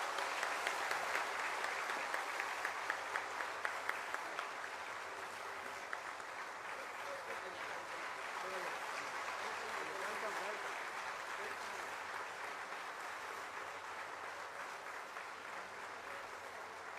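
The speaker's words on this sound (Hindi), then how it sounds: "जोरदार तालियों से इनका स्वागत करो।" Sustained audience applause at a tribal international conference, a steady broad wash of clapping for about seventeen seconds, somewhat distant and fairly even, with faint voices mixed in.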